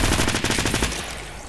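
Rapid automatic gunfire from a gun in the video game Fortnite, a fast burst of close, loud shots firing in quick succession before trailing off.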